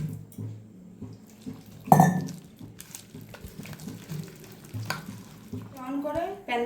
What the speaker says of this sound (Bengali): ভালো করে আমি জল দিয়ে গুলে নেব।